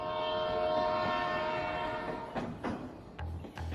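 A train with a sustained tonal horn blast that fades, followed by clattering rail rumble and a few low knocks, moderately loud and with no talk.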